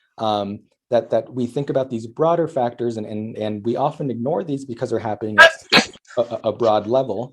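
A single sharp sneeze bursts out briefly partway through a lecture on Latinx youth mental health, cutting across continuous talk from the speaker.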